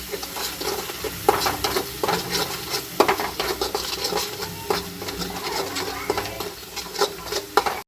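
Poppy seeds and cumin powder frying in a pan while being stirred for a mango poppy seed chutney, with steady sizzling and repeated scraping clinks of a spoon against the pan, close and continuous.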